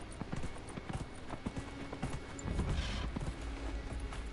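Horse hooves clip-clopping in Dragon Age: Inquisition, a steady run of soft hoofbeats at moderate distance that swells slightly louder toward the end, with a faint whinny-like touch and no speech over it.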